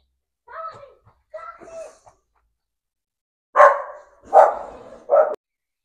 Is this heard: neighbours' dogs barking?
yes